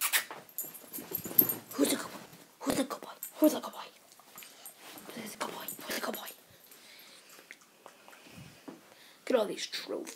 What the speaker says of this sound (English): Here's my puppy.